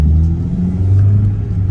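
A classic VW Golf MK3.5 engine pulls along steadily on a warm-up drive, giving off a continuous close, low rumble with mild rises in revs and no talking.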